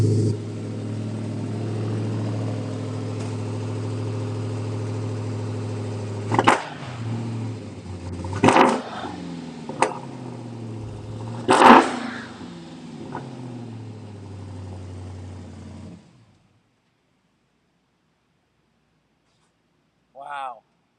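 A drag car engine in a racing simulator video game holds a loud, steady, harmonic drone with several sharp louder bursts, then cuts off abruptly to silence.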